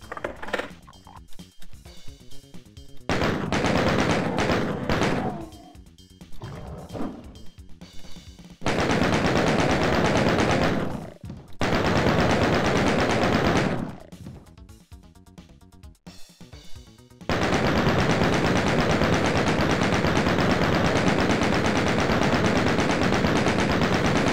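Chaingun fire in the shooter game Doom 2, loud rapid bursts of automatic shots in several long stretches separated by brief pauses and quieter game noise.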